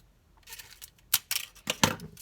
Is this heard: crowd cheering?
no